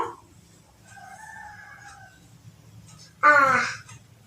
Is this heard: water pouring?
no